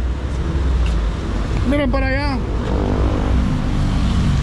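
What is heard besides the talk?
street traffic in Guatemala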